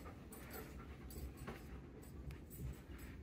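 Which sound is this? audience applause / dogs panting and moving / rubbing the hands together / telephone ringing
dogs panting and moving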